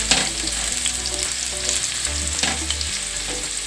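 Garlic fries briefly in a pan, a constant loud crackling sizzle heard up close, with occasional scrapes and taps of a stirring utensil and no speech.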